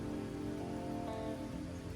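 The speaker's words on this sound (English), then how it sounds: "It's still raining. Hard." Heavy rain pouring steadily over a golf course, a dense continuous hiss close by with no pauses and no voices.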